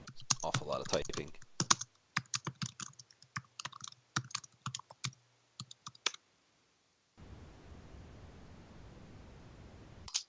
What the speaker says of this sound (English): Awful lot of typing.